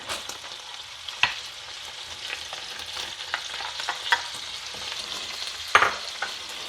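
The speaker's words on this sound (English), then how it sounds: "The first step is to brown your ground beef along with your ground garlic and the onions" Ground beef browning in a pan with garlic and onions for a slow-cooker beef chili, a soft steady sizzle with occasional sharper scrapes and clicks of stirring at close range.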